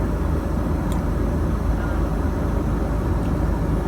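Steady, loud broadband roar of an airplane cabin three hours into a ten-to-eleven-hour flight, a constant engine and air hum with no speech.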